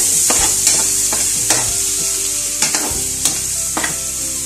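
Garlic sautés in a hot pan for pork sinigang, giving a close, continuous sizzle broken by several sharp scraping stirs of a utensil against the pan.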